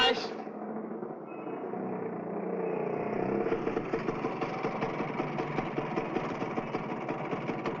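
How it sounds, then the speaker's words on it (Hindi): A broken-down second-hand motorcycle engine idles with a steady, throbbing low rumble, fairly close and continuous after a brief rough start, with people talking nearby. "मोटरसाइकिल बिगड़ गई है।"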